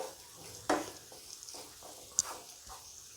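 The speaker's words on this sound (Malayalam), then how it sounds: "എല്ലാ സൈഡും ഒന്ന് ചൂടായി അതിൻ്റെ ഒരു കളറൊന്ന് മാറി വരുന്നിടം വരെ ഒന്ന് ഇളക്കി കൊടുക്കുക" Chicken pieces for chicken chukka are stirred and fried in a pan, giving a soft steady sizzle with a couple of sharp scraping knocks of the spoon against the pan, heard close and alone.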